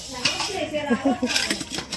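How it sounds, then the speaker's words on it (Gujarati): Dishes and pots being scrubbed by hand clink and scrape repeatedly at close range, with water and metal knocks in an uneven rhythm. "હવે આ વાસણ ઘસું છું"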